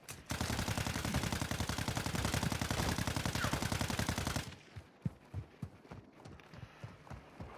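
Rapid, sustained automatic gunfire in a video game rattles loudly for about four seconds, then gives way to a scattering of separate nearer shots and thuds.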